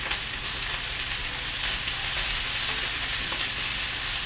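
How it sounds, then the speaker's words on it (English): Porcini gorgonzola sauce bubbling and simmering strongly in a pan, a loud steady sizzle and crackle that holds evenly throughout with no voices. "I'm seeing it kind of bubbling a little too strongly, so I'm going to turn my heat down just a touch."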